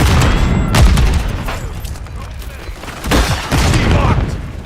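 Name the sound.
Semtex grenade explosion in a video game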